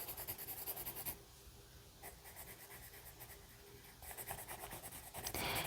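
Pencil scratching and coloring on paper while drawing a Halloween Bride of Frankenstein picture, a steady close scraping that pauses briefly as the pencil is turned, then resumes more firmly.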